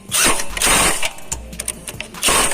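A Honda Wave 110 motorcycle engine runs in fourth gear close by, revving loudly in surges with a harsh, buzzy rattle that dips briefly between bursts before climbing again.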